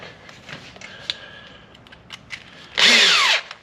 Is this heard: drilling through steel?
yes